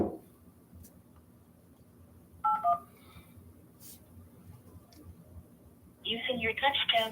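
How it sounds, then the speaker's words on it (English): A touchtone phone sends a brief pair of keypad beeps into an automated dialer while cold calling for real estate, and a recorded voice follows near the end. "Using your touchtone phone, please enter your PIN number"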